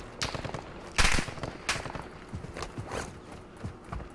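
Gunfire in Call of Duty DMZ: a fast string of sharp shots, with one loud close crack near the middle and quieter bursts trailing off, set against busy game ambience.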